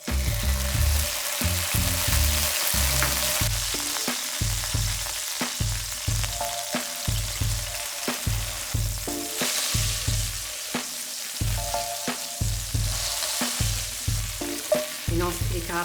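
Capers sizzle and fry hard in a hot pan for pasta alla Vesuviana, a loud, steady crackle with repeated stirring scrapes and clatters throughout, no voices.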